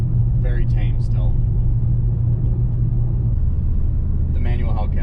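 A manual Dodge Hellcat with an FBO setup of about 1000 horsepower and near straight-pipe exhaust idles with its valves open, giving a deep, steady rumble while people talk over it.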